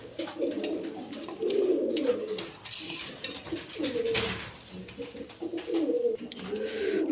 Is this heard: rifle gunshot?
no